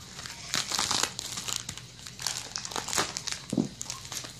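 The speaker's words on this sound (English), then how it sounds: "I'm gonna try and cut in the hole there." A plastic package is cut open at close range, with soft crinkling and crackling of thin plastic in irregular bursts, fairly quiet, with no talking.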